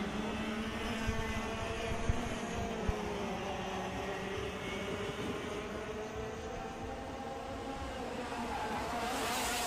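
Yamaha X30 engine karts race in a junior final at the X30 Asia Cup, a steady, continuous high-pitched engine drone from several karts that holds throughout, moderately distant, with no talk.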